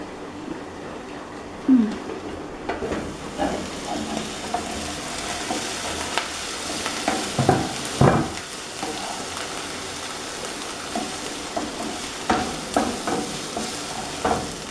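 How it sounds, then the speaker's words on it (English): Onions frying in oil under a lid in a pan, a continuous close sizzle and crackle with scattered pops and occasional clanks, fairly loud and steady throughout. "leave that to fry for a little while, let the onions brown"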